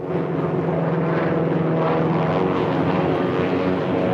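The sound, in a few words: zeppelin airship engines droning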